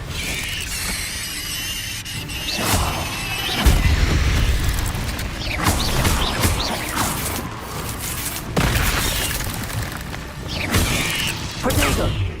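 Confringo spell explosions in Hogwarts Legacy gameplay: repeated loud booming blasts and bursts with rumbling impacts and mechanical clatter, spread across the fight amid busy game effects.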